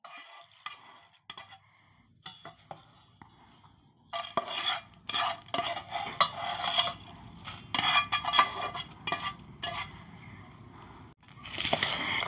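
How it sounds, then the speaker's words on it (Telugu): A spoon scrapes and clatters against a pan in quick, irregular strokes, stirring okra fry with tempering; brief quiet at first, then steady close-up scraping. "ఇగో అది కూడా ఇందులో వేసి బెండకాయ ఫ్రైలో కలుపుతున్నా"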